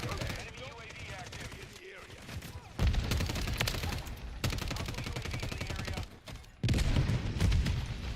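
Rapid SMG gunfire from Modern Warfare III, loud close bursts of automatic fire in several sustained strings separated by brief pauses, over game background sound.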